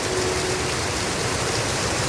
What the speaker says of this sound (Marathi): एवढा जोरात पाऊस पडतो खूप